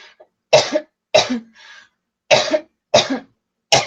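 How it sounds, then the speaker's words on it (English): A person coughs in a series of sharp, close bursts, about five separate coughs spaced unevenly with a soft throat sound between two of them, in otherwise silent surroundings. "That's not the song, that should be coughing."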